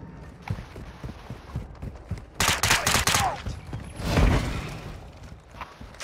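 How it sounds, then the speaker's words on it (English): Gunfire from a weapon in the video game Call of Duty: Modern Warfare II, with a few sharp shots and a dense burst in the middle, heard over game ambience. "I love the effect of that gun after you shoot somebody"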